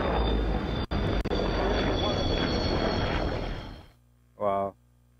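A Russian MiG-29 OVT jet performs at the RIAT airshow, its loud sustained engine roar filling most of the clip before cutting off, followed by a short separate burst of sound.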